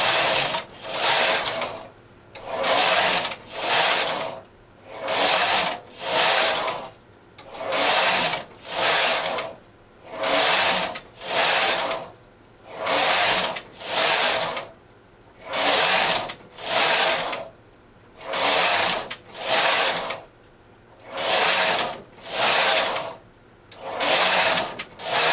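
Knitting machine carriage sliding back and forth across the bed while knitting short-row spiral triangle strips, a loud rasping whoosh repeating in steady, evenly spaced passes, two per pattern, with brief pauses between.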